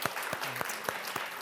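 Brief applause from a church audience, a handful of distinct claps at a moderate distance over a quiet room.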